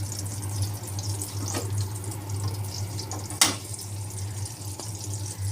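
Butter sizzles in a pan while cooking chow mein, a continuous soft hiss and crackle with a low steady hum underneath and one sharp tick partway through.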